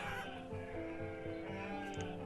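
Sheep bleating in the village-building game Banished, repeated wavering bleats from a small flock at moderate distance, soft and continuous.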